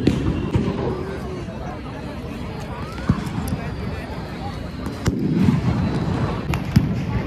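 Fireworks and firecrackers bursting at a crowded Diwali fire show at Shivaji Park in Dadar, Mumbai: sharp scattered bangs and pops over a dense crowd roar, with people talking throughout.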